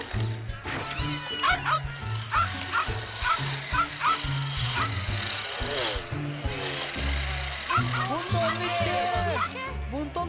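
A cartoon character's dog module gives off repeated short barks and yips in a quick rhythm, mixed with mechanical whirring and animated voices talking over them.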